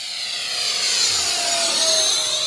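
Hobby King F-35 Lightning RC model jet at full throttle gives a loud, rising whine and rushing roar that builds as it passes, with a pitch sweep in the middle.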